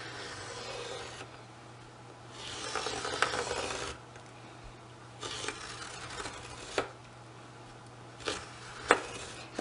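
Scissors cutting through a canvas cover for a mini scrapbook, heard as close bursts of crisp, rasping snips separated by quiet pauses, with a few sharp clicks toward the end and no talking.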